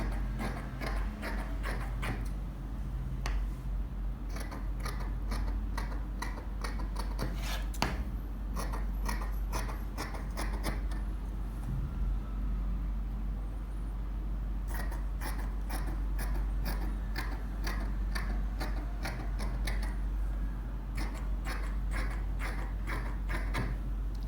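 Scissors cut fabric for a size 42 shorts jumpsuit, making repeated crisp snipping clicks in quick clusters with pauses between, close and fairly quiet over a steady low hum.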